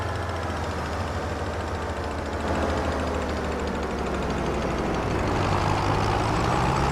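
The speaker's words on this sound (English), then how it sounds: "Can you hear the engine?" Failing tractor engine in a farming video game, idling with a steady low rumble and droning hum that rises slightly partway through, heard alone without talk.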